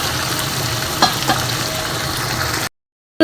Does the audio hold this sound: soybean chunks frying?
yes